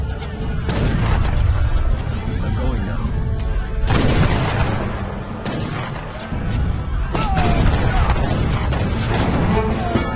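Battle sounds from the strategy game Age of Empires III: dense overlapping musket gunfire, booming artillery and crashing impacts, loud and continuous with repeated heavy bursts throughout.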